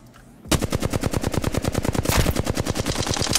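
A Flatline assault rifle in Apex Legends fires one long sustained full-auto burst, a loud, fast, evenly spaced stream of close shots starting after a brief quiet moment.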